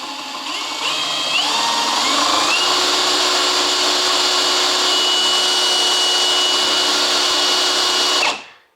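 An old 6-volt G414 generator is spun up and whirs steadily at high speed, a continuous loud mechanical whine close by that rises at the start and cuts off abruptly at the end.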